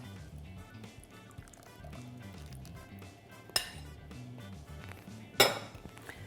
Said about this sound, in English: I'm adding in the sauce.